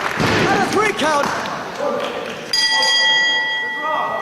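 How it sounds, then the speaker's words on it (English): A wrestling ring bell rings out after a double pin, a sharp struck tone with a long ringing decay, following a burst of thuds and crowd noise with a voice talking over it. "The bell sounds and we've had a double pin."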